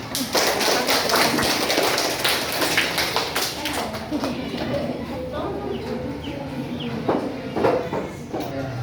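A primary school class claps their hands together in a classroom, a dense, steady patter of many hands going for several seconds with some voices mixed in.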